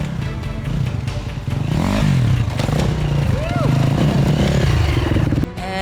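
A dirt motorcycle revs and throttles up over a log during off-road training, the engine loud and close with rising and falling pitch, clattering and scraping as it climbs, ending abruptly.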